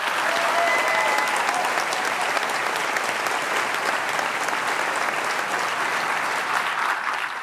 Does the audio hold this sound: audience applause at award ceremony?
yes